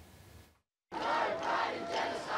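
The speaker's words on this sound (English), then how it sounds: "Record crowds attended rallies right across the country." Large crowd at an Invasion Day protest march through Melbourne's CBD, a dense, sustained roar of many voices with raised cries, cutting out briefly before surging back loud and continuous.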